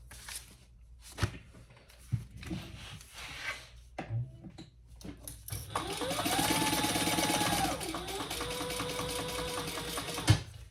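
A sewing machine stitches lining and D-rings together for a small sling bag. The clip opens with scattered handling clicks and taps, then a run of steady machine stitching about halfway through, rising and dipping in speed, with a final clunk.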